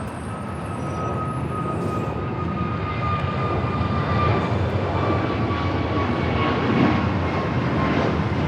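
Turkish Airlines jet taxiing on the south side at LAX toward taxiway Bravo, a steady broadband engine rumble with a thin whine, swelling slightly toward the end, heard alone without talk.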